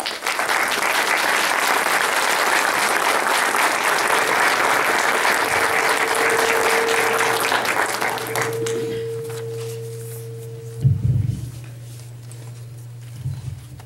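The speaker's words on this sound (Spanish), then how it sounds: "pido lo reciban con un fuerte aplauso" Audience applause at a Spanish-language historical talk, dense and steady for about eight seconds before fading out; a low hum and a brief knock follow in the quieter remainder.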